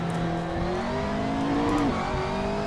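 A GT3 race car engine in Assetto Corsa holds a steady, loud drone that climbs in pitch and then drops sharply near the end, as on a gear change, with no talk over it.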